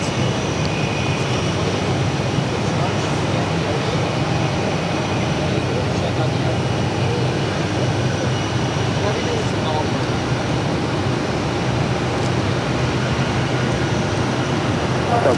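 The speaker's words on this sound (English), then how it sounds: "the Lufthansa A340-600 now rolling down at 22 left." A Lufthansa Airbus A340-600 takes off from runway 22 left at Boston Logan, its engines a steady, loud broadband roar held for the whole stretch while people talk over it.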